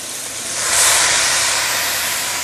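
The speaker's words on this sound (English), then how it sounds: "maybe I'll add in some Shaoxing wine first" Shaoxing wine poured into a hot pan of braised pork leg, erupting into a loud, steady sizzling hiss that swells quickly and holds strong without any talking.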